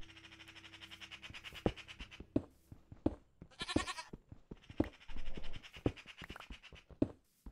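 Minecraft goats bleat in short, nasal calls repeated several times, alongside crisp clicking and tapping game sounds, close and fairly quiet with no talking.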